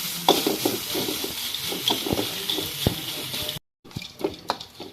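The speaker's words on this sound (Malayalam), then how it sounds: "നന്നായി തേങ്ങ നന്നായിട്ട് വറുത്തെടുക്കണം." Grated coconut roasting with curry leaves in a pan for chutney, with close, rhythmic scraping and stirring taps over a soft sizzle, a short silent gap, then more stirring.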